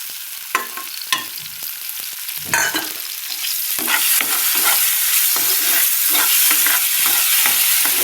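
Oil sizzles loudly in a pan while the food is stirred, with scraping and clattering strokes early on. The frying then settles into a dense, continuous hiss that holds to the end.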